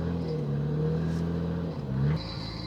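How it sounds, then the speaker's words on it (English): Nissan Skyline engine idling with a steady low rumble, close by, then a brief rise in revs as the car pulls out, before settling back down. "Can't beat the sound of these cars. I absolutely love Skylines."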